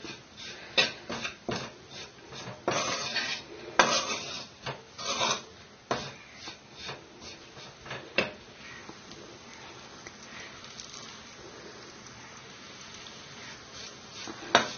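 Gram flour roasts in ghee over a low-to-medium flame for besan laddu while a spoon scrapes the pan in quick, rasping strokes, busy at first and then quieter and faint.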